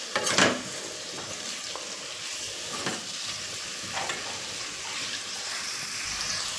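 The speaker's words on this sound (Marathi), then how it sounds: "कांदा लाल करत ठेवत आहे" Onions frying in oil in a pot for chicken biryani, a low steady sizzle broken by a sharp scrape of stirring at the start and a few lighter clinks and scrapes later, fairly quiet and close.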